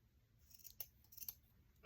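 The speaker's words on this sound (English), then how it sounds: "So I'm going to cut just a small amount of cheesecloth." A few small, light snips of scissors cutting a tiny piece of cheesecloth for a craft holiday tag, quiet and close, then a louder sudden clatter at the end.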